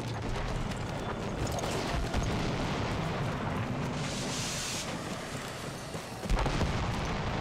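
A big cannon fires in Battlefield 1, giving a deep, muffled thud near the end that rises out of a continuous low rumble of battle noise, with no talking.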